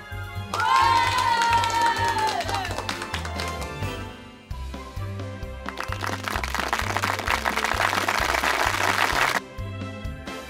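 A children's audience at a school circus show cheers and shouts over rhythmic music, with a burst of loud crowd noise in the later part before it drops away.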